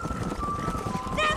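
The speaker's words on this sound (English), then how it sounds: "The horses." Hooves of horses in the Red Dead Redemption video game clop in a quick, continuous rhythm, fairly close, with a thin tonal game sound running over it and a brighter burst near the end.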